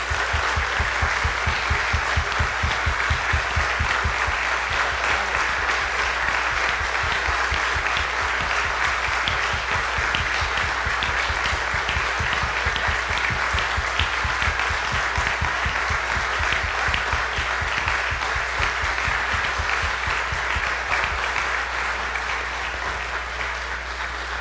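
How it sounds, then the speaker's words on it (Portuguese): A congregation at a memorial mass applauds a priest with steady, loud, dense clapping that fills the whole stretch without pause, from a large crowd in a church. "Vamos aplaudir o Padre Zé Roberto."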